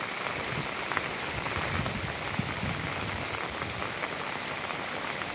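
Heavy monsoon rain pours down steadily at Koyna, a dense, unbroken hiss of drops hitting surfaces close by, with no voices over it.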